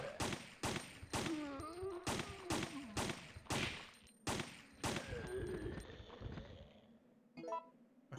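Gunfire in Resident Evil 3: Nemesis, a series of heavy booming shots about every half second with ringing tails, thinning out toward the end with a couple of scattered clicks.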